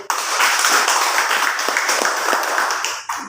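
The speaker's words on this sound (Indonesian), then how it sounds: "beri tepuk tangan" A church audience breaks into applause during a sermon on spirituality, a dense, steady wash of many hands clapping that fills the room for about three seconds before tapering off.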